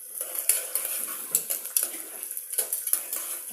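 Onions stirred and fried in a pan, with repeated metallic scrapes and clinks of a utensil against the pan over a faint sizzle, close and fairly continuous.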